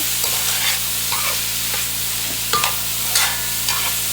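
Mixed vegetables sweating in a pot for a veggie bolognaise, a continuous soft sizzle with several scraping stirs of a spoon at irregular intervals, close by.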